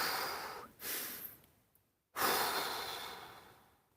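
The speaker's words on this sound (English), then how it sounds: "Take a couple of deep breaths." Two long, deep breaths during a hamstring stretch, each a broad whooshing inhale or exhale close to the mic, separated by a brief silent pause, with no talking.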